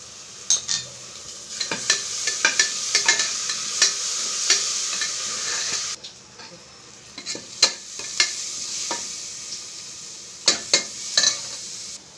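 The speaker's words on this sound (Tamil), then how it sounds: "நெய் போட்டதுனால இப்போ இஞ்சி பூண்டு பேஸ்ட் போட்டுக்கலாம்." Ginger garlic paste sautés in ghee for ghee rice, giving a continuous bright sizzle with repeated sharp clicks and scrapes of a spoon against the pan, close up and without speech.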